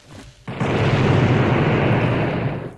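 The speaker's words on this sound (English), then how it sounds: "Explosion!" A TNT explosion in a video game bursts in abruptly after a brief lead-in, a loud, dense, rumbling blast that sustains for over two seconds before beginning to fade.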